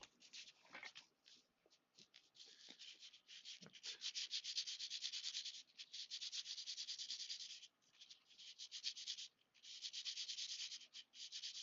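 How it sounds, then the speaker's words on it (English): Fine 3000 grit sandpaper rubs against a small watch component, producing soft, hissy scraping strokes in bursts of varying length with short pauses between, close and fairly quiet. "This is 3000 grit sandpaper"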